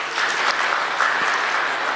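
Loud, steady applause from an audience at a Brahma Kumaris gathering at Madhuban, a dense wash of clapping that holds evenly for the full two seconds with no voices on top.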